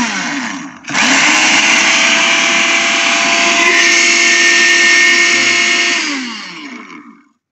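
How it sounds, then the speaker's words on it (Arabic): A Kenwood food processor motor starts up after a brief whir and runs as a loud, steady, high-pitched whine for several seconds before winding down to a stop. "يعني ممكن اشغل الخلاط كده شغال"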